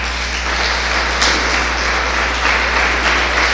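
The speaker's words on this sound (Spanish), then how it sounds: "Dale un aplauso al Señor." Church congregation claps for the Lord, a dense, steady wash of applause throughout, close and loud, with a constant low hum underneath.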